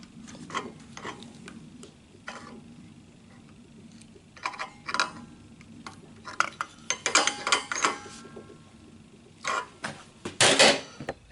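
A wrench tightens a threaded fitting on a gas hose connection, giving scattered metallic clicks and ratcheting taps in short irregular clusters, close by and fairly quiet.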